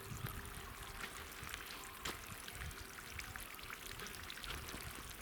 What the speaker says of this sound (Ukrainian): 8 тонн води вже вилив.